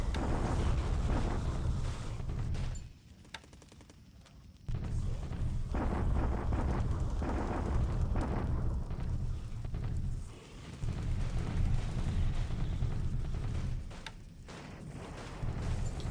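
Bombardment explosions in the War in the Pacific strategy game form a dense, continuous low roar of blasts, dipping briefly a couple of times before surging again.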